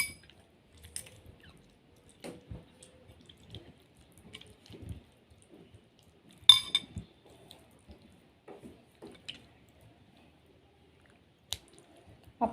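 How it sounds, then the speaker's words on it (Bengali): Tomatoes being mixed by hand into a Bengali bharta mash with salt give soft, wet squishes and occasional drips, sparse and quiet, with a few sharper squelches scattered through near-silence. "টমেটোগুলো দিয়ে ভালো করে মিক্স করে নেব।"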